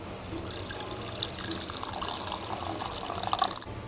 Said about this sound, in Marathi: आता आपण गाळणीने गाळून घेणार